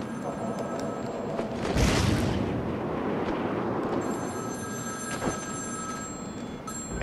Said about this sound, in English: Ringing telephone.